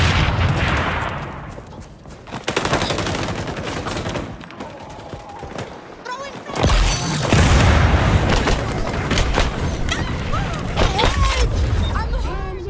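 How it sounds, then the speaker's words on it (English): Grenade blasts and dense gunfire in an XDefiant online shooter match, loud and close, with a heavy boom partway through followed by rolling explosions and rapid shots, while a voice talks over the action. "Grenade,"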